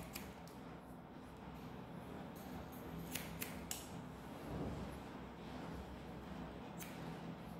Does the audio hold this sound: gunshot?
no